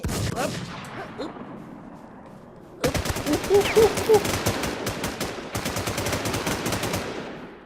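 Gunfire in the online survival shooter WarZ: a loud burst of rapid automatic shots, then a lull, then repeated volleys close by, with a player talking over it.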